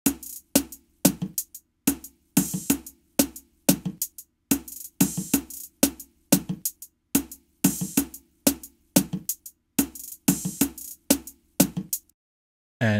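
A programmed groove of closed hi-hats with an open hi-hat added, built for a modern Zouk, Kizomba and Afrobeats beat in Logic Pro X. Short bright hits repeat in a steady looping pattern with low tones underneath, stopping abruptly near the end.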